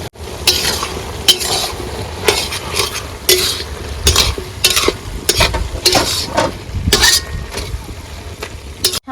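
Coriander leaves and spinach sizzle and fry in a pan with salt and turmeric while a utensil stirs and scrapes repeatedly, with clattering metal strokes over a steady close sizzle.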